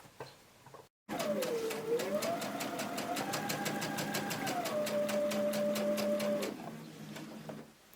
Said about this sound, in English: Don't be afraid to stop and start the machine as you're going along, rather than just keep stitching